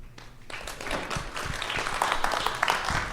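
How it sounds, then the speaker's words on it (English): Modest, scattered audience applause at a live podcast show, a few seconds of uneven clapping with a faint murmur of voices mixed in. "That's not as resounding of an applause as I was hoping for"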